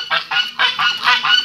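Goose honking loudly and close by, a rapid series of about five or six harsh, nasal calls in quick rhythm with brief gaps between them.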